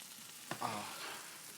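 Burgers cook in a pan with a steady, close sizzle and spit of frying fat, plus a brief scrape or stir partway through; no one talks.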